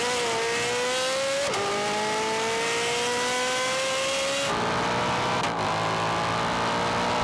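V8 drag racing with a Dodge Demon and a Mustang: loud engines climb steadily through the gears, with sharp drops at each shift. The sound is close and continuous, with no talk.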